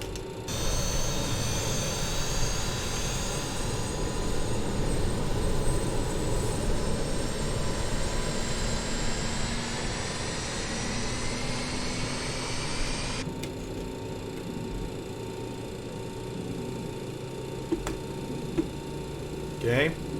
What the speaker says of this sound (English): We now have combustion, and that engine is starting.